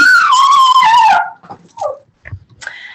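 An 11-month-old dog squeals while playing with a toy indoors, one long loud whining cry followed by a few short yips and whimpers.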